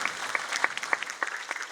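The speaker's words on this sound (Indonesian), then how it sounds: "Tepuk tangan untuk guru-guru kita." An audience claps for teachers at a school anniversary ceremony, a brief burst of scattered, fairly close applause with distinct individual claps and no speech over it.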